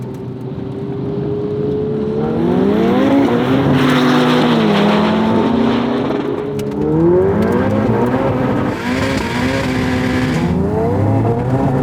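A Ferrari 488 Pista and a Maserati MC20 launch in a drag race with loud, close engine roars, climbing through repeated gear changes and revving hard throughout.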